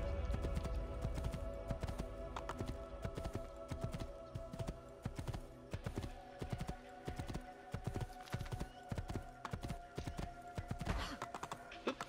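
Horse hooves clip-clop at a steady trot in the video game Assassin's Creed II, a continuous rhythmic clatter on hard ground over a game soundscape, with no talking.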